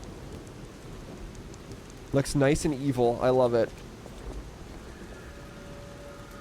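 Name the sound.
rain at night in the Lies of P video game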